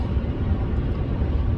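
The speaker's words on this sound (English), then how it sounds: "For now, though, I'm just gonna assume the tires are wore funny. They're noisy. They're really noisy." A low, steady road roar from noisy, unevenly worn Michelin tires on a car while driving, heard as a continuous droning rumble inside the vehicle.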